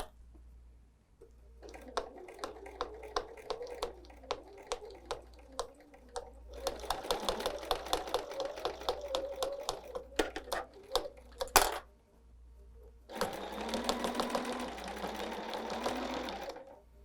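A sewing machine stitches a fabric casserole dish hot pad in several bursts, first slow individual clicks, then faster continuous runs, separated by short pauses and a small clatter, fairly quiet and close.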